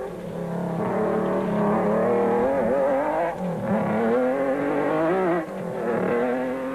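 Race cars overtaking during the 2003 Tarka 400 race give off a loud, continuous engine roar with rising and falling revs as they accelerate and jostle close by, with no talking.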